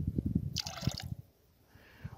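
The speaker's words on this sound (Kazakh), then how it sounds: "Қазір жаңағы дәріні құятын болам." Liquid medicine is poured into roughly 50 litres of water, a brief bright splashing gush after a few dull knocks and drips, then quiet with faint trickling.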